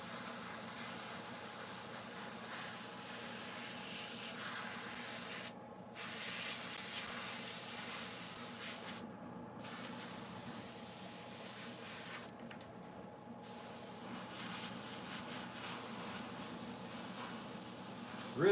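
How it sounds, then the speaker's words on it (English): Airbrush spraying paint onto carved chainsaw art, a continuous soft hiss of fine spray that cuts out briefly three times, steady and close, with a low background hum. "Really do prefer airbrushing color on though compared to just using the aerosol can."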